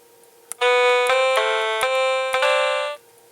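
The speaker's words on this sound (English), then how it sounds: "Mandolin" A mandolin voice on a small home-built electronic piano kit plays a bright, buzzy tremolo tone. A few held notes change pitch in sequence, loud and clean, with clicks as keys are pressed.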